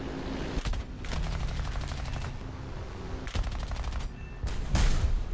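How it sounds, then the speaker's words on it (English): Aircraft guns fire at ground targets in the War Thunder combat game, with rapid automatic bursts rattling out in several long strings separated by short pauses, loud and dense over a constant engine drone. "guess I'll just shoot ground targets."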